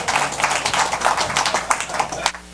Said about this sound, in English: Let's give Giovanni a big round of applause also.